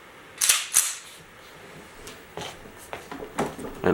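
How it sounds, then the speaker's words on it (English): A Beretta PX4 Storm Compact pistol being chambered, with two sharp metallic clacks close together followed by a scatter of lighter mechanical clicks and handling noises. "I am going to chamber the weapon"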